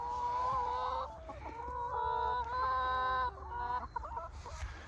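Organic Lomond Brown Classic hens cluck and chatter inside a hen house holding hundreds of birds, several overlapping calls rising and falling continuously and fairly close, without voices.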